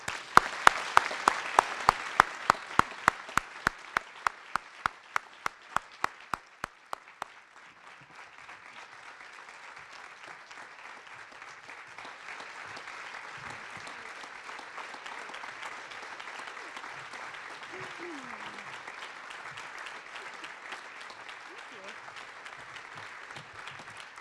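An award ceremony audience applauds in honour of a posthumous mentoring award recipient and his family, starting with a few loud sharp claps close by, then settling into sustained, even clapping from a crowd.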